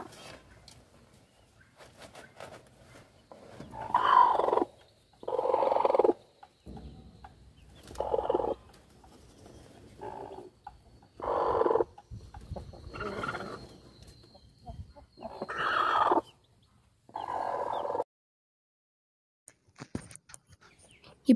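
A brooding country hen (Nattu kozhi) sitting on eggs in a nest, giving low, close clucks and throaty grumbling calls in short separate bursts with quiet gaps between them.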